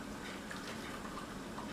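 Half a cup of warm water poured into a mixing bowl of roll dough ingredients, a brief soft splashing gush, quiet and close, with no talking.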